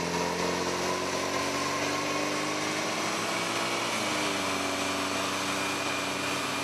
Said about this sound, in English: We've just run the Colorado up on the dyno to give it a baseline run before we fitted the intercooler